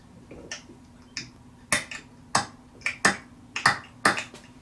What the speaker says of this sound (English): We just do some finger snaps